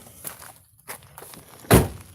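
A car door shuts with a single loud, close thunk on an old railroad-bed trail at night, following faint footsteps and rustling.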